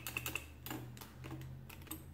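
A Comptometer mechanical calculator key being pressed: a quick run of sharp mechanical clicks, then a few softer clacks over a steady low hum, close and moderately quiet.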